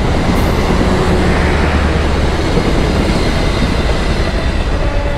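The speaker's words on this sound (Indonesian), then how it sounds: "Kereta Serayu." The Serayu passenger train rolls past close by, a loud, continuous rumble of wheels and carriages with rail clatter holding steady throughout, no voices over it.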